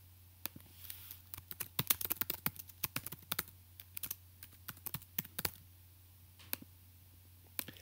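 Irregular bursts of close, crisp keystrokes on a computer keyboard while entering spreadsheet data, with quick clusters of taps and short pauses, and no voices.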